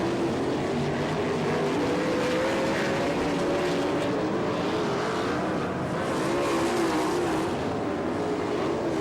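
USAC National Sprint Cars race at Attica, Ohio, during the Buckeye Nationals. Several engines whine and drone loudly and continuously, their pitch rising and falling as the cars circle the track, with no voices.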